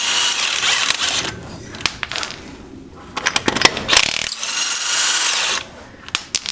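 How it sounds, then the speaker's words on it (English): An impact wrench rattles off car wheel lug nuts on a Mitsubishi Evo 9, with several short, loud ratcheting bursts separated by brief pauses, close by. "You're talking that impact up an awful lot there, Chris."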